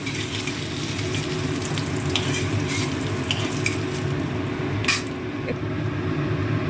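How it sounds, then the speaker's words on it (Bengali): Bitter gourd with salt frying in a pan, a steady, dense sizzle throughout, close and even, with a brief louder spatter near the end and no talking. "আগে আমি উচ্ছাটা নুন দিয়ে ভেজে নেব হালকা করে"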